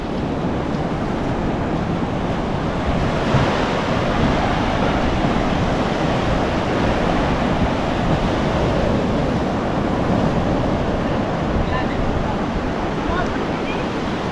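Sea waves churn in a steady broadband wash with wind noise buffeting the microphone, rough open water out at sea with no breaks in the roar.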